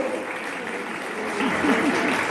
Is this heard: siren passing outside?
no